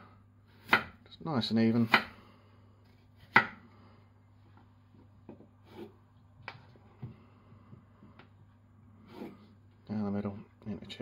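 A knife chopping peeled potatoes into chips on a board, a few sharp close knocks and short bursts of cutting between stretches of quiet, with a person talking over it.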